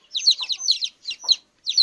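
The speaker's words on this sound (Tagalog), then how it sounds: "Yan ating mga sisiw" Bursts of high, chirpy cheeping from young chicks in a rural coop, several quick calls clustered close together with short pauses between them.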